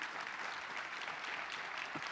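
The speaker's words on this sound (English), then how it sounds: "you didn't have to clap for me because you clapped for them" An audience applauding at a business policy gathering, steady dense clapping throughout, moderately loud and continuous with no gaps.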